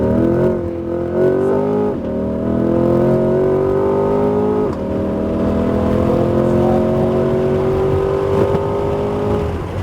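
A Corvette C8 Z51 accelerates on the Homestead-Miami Speedway circuit. The loud engine note climbs in pitch, drops briefly at two gear shifts, and keeps pulling steadily throughout.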